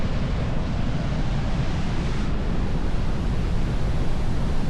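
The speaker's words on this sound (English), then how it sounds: "as you watch the Siffleur River go over a straight drop" The Siffleur River plunges over a straight drop at Siffleur Falls, a steady, dense roar of falling water that fills the air without pause, loud and close with no voices.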